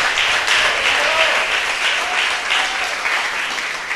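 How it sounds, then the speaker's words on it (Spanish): Sustained applause from a church congregation during an evangelical service, a dense, steady wash of many hands clapping for the full stretch, loud and close with no pauses. "Dale un aplauso bueno al Señor, que Él se lo merece."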